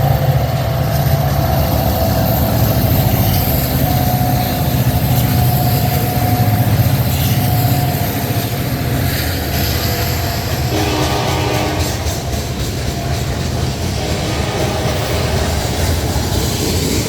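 An Alaska Railroad freight train rumbles past near Wasilla, the locomotive engine droning loudly and steadily with wheels clattering throughout, and a horn sounds midway over the continuous roar.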